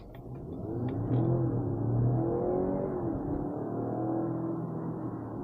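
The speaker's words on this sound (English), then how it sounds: "let's pop it in sport mode, get the engine going," A 2023 Mazda CX-60 plug-in hybrid with its petrol engine and electric motor working together in sport mode pulls away hard, its engine note rising and climbing through the gears with a steady cabin rumble.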